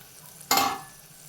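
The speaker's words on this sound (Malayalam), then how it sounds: "ഒരു 2 മിനിറ്റ് തക്കാളി ഒന്ന് വഴണ്ട് വരട്ടെ" Tomatoes for rasam hit a hot pan with a single brief burst of sizzle that quickly settles into a quieter hiss.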